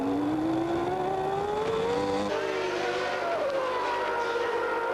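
Formula 1 race cars at the 1994 Portuguese Grand Prix in Estoril scream past, with high engine whines rising and sliding in pitch as they overlap, loud and continuous.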